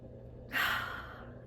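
A single deep breath drawn in during a calm guided breathing exercise, one soft, airy inhale rising quickly and fading over about a second, close and quiet against a faint background hum.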